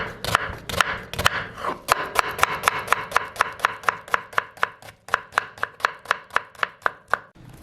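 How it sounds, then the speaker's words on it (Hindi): A knife finely chops onions on a board in quick, even taps that start loose and speed into a steady, rapid rhythm, crisp and close with no talking. "प्याज को आपने इस तरीके से बारीक बारीक काटना है।"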